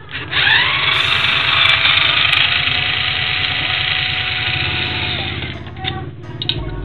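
A power driver backs screws out of a Makita 1900B electric planer during disassembly, whirring loud and close at a steady high pitch for several seconds, then winding down with a few clicks and knocks.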